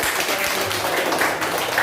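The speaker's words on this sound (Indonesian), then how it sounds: "Berikan tepuk tangan dulu" Students in a classroom giving a round of applause, dense, steady clapping from many hands filling the room for the whole stretch.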